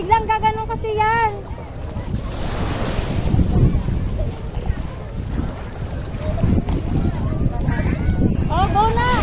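Ocean waves wash and slosh around a boat carrying a family on a boating trip, with steady wind buffeting the microphone as people talk and shout over the surf.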